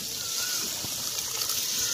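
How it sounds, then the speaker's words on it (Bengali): Lentil dal pours into a pan of vegetable curry, giving a continuous liquid splashing and trickling for two seconds, close and fairly loud, ending abruptly. "এবার এই তরকারির মধ্যে আমি ডালটা ঢেলে দেবো।"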